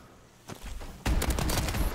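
Gunfire in the futuristic shooter game Call of Duty Advanced Warfare: a muffled shot, then a louder, close burst of rapid rattling fire.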